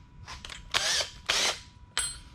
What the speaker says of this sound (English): I want to drill my holes first